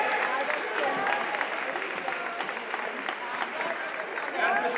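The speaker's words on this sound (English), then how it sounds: "Can we get one more round of applause" Crowd applause at a boys basketball championship final between Nashua North and Thornton Academy, a sustained wash of clapping from many hands at even loudness, with talk running under it.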